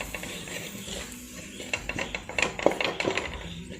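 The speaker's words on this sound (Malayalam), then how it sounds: "ഇപ്പോൾ 1 മിനിറ്റ് നേരമൊക്കെ നന്നായിട്ട് ഇളക്കി കൊടുത്താൽ മതി." A spoon stirs spice powders in a pan for mushroom masala, scraping with light metallic clinks that grow busier and louder toward the end, with no talking.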